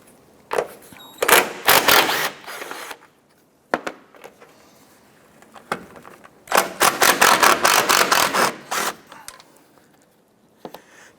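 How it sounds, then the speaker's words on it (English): Strut top nuts on a 2006-2013 Chevrolet Impala being removed with a 15mm socket: bursts of rapid metallic ratchet clicking in two main runs, close and fairly loud, separated by quieter gaps with a few isolated knocks. "Using a 15mm socket, we're going to go ahead and remove the 3 nuts on the top of our strut assembly."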